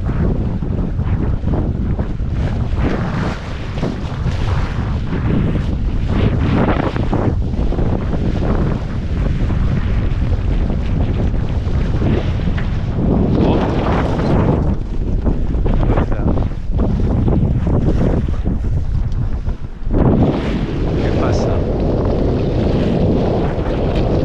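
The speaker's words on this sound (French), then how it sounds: "Et le vent qui arrive presque de face." Wind blowing hard on a sailboat at sea off Saint-Vincent, roaring and buffeting the microphone in surging gusts, with water washing against the hull beneath and no talk.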